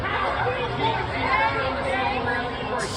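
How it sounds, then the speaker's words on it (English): Dense crowd chatter fills a large gathering at a TPUSA event, a steady babble of many overlapping voices throughout with no single speaker standing out. "That is a big crowd."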